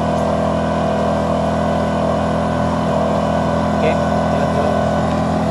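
A 2000-watt super-silent inverter generator engine runs at steady speed, a loud, constant droning hum close by with no change in pitch, and a voice says a brief word over it.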